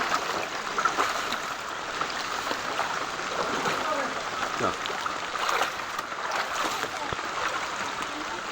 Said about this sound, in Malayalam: ഓടയുടെ സൈഡിൽ കൂടെ വെള്ളം ഇറങ്ങി വരുന്നതാണ്.